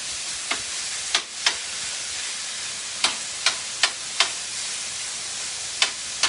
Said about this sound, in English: You guys hear that sizzling?